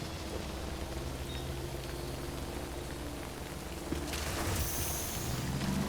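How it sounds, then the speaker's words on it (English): Steady rain in the video game Death Stranding, a constant dense hiss filling the scene at low level, with a slight swell of louder downpour near the end and no voices. "Oh, it's raining."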